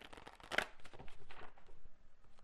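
Tarot cards being shuffled, heard as a short burst of soft papery riffles and flicks, close and fairly quiet, with no talking.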